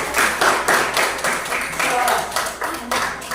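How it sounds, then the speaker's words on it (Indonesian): Students clap for a group in a classroom, a rhythmic burst of handclaps swelling and fading in repeated waves, with voices present underneath. "Kasih tepuk tangan dulu untuk kelompok Kalajengking"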